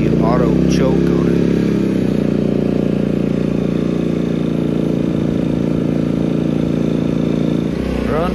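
A small engine with an auto choke starts and settles into a loud, steady running drone close by, with a voice briefly at the start.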